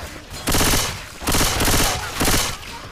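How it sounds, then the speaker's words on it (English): Gunfire in Left 4 Dead 2 on the Dark Carnival campaign, three loud bursts of rapid automatic shots separated by short gaps. "You're shooting me again."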